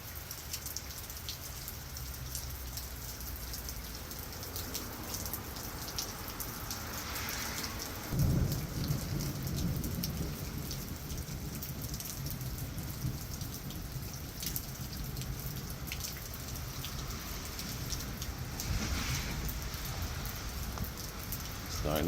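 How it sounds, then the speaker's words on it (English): Heavy rain pours steadily during Hurricane Milton, a dense, constant hiss with occasional low rumbles of distant thunder rolling underneath, loudest around the middle and near the end. "There was some slight thunder in the background."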